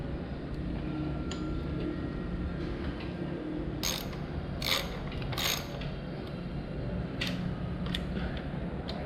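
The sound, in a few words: mini ratchet tightening on motorcycle brake, Royal Enfield Himalayan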